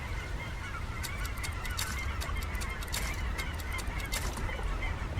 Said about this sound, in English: there are now geese passing overhead